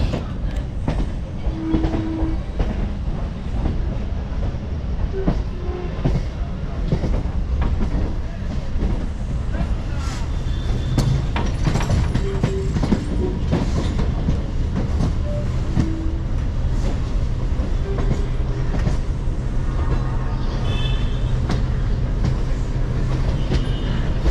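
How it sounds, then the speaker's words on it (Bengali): A local train running from Kolkata toward Purulia, heard from inside the carriage as a steady loud rumble with rhythmic clickety-clack of wheels over rail joints and occasional squeals throughout. "একটা বেজে চল্লিশ মিনিটে আমাদের ট্রেন ছাড়লো"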